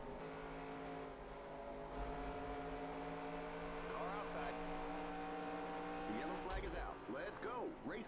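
Race car engines in the NASCAR Racing 2003 video game hum steadily at caution pace during a 1990 Busch Series race at Darlington, with pitch sweeps as cars shift, and a louder rev burst near the end.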